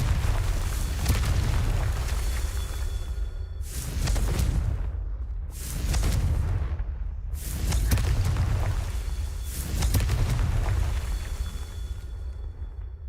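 Repeated booming blasts of the Confringo explosive spell in the Hogwarts Legacy video game, four or five loud rumbling bursts spaced a couple of seconds apart, each swelling and fading over a dense low roar.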